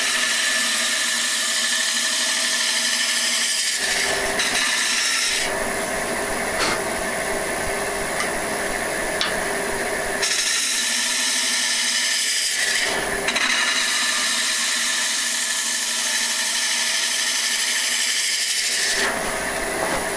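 A woodturning tool cuts a wooden lampshade spinning on a lathe. The loud, rasping scrape comes in long passes and repeats several times, with short changes in tone between cuts.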